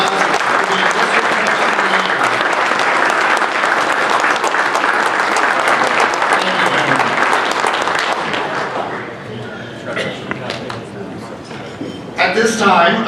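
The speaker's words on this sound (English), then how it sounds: "Let's give one last round of applause" Sustained loud applause from the audience at a baseball hall of fame induction ceremony in a hotel ballroom, a dense steady wash of clapping that tapers after about eight seconds into scattered claps and murmurs.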